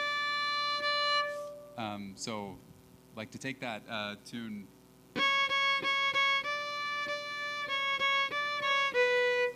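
Fiddle tune played plainly with no vibrato, sustained bowed notes following a brief stretch of speech, the melody loud and close after a short spoken interruption.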